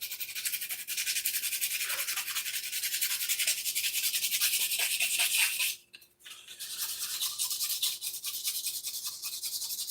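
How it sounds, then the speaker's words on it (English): Steady back-and-forth rasping of sandpaper rubbed on a wooden piece, close and continuous for several seconds, with a brief pause near the middle before the scrubbing resumes. "I'll hit it with a little bit of sandpaper."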